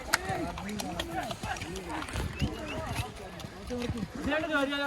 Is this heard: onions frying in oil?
no